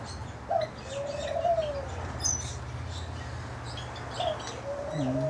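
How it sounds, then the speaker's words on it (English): A cockatiel coos in a mixed aviary, two soft rising-and-falling coo phrases with faint chirps from other birds around them over a low steady background hum. "I don't know who he's cooing to."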